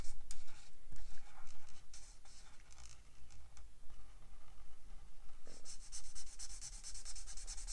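An alcohol marker scratches and rubs across paper while a scrapbooking card is coloured in, giving close, steady strokes with short pauses and a brighter, harder passage near the end, with no talking.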